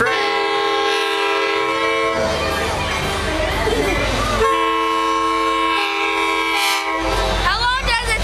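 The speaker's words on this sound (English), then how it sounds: "And here comes the train." A train pulls into the station at Brunswick Railroad Days, its horn sounding loud and close in long, repeated blasts over the rumble of the arriving cars, with people talking nearby.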